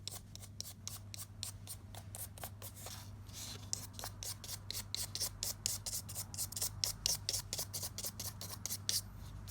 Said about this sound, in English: Then rub off the dust on the cardboard.